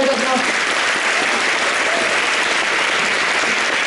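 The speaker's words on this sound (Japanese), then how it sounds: "ちょっと皆さん、もう一度大きな拍手をお願いいたします。" Audience at a live sengoku princess troupe show clapping loudly after a chair dance performance, a dense, steady burst of applause that fills the whole moment.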